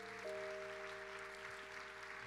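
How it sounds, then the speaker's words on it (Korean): Faint, distant applause from a church youth worship congregation, a soft continuous patter of clapping with a steady tone sustained underneath. "우리 박수로 환영하도록 하겠습니다"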